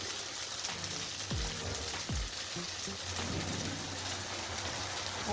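A thin layer of dosa batter fries on a hot pan, making a dense, steady crackling hiss like light rain that runs evenly through the whole stretch.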